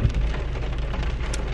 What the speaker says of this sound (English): so it is raining as y'all can hear.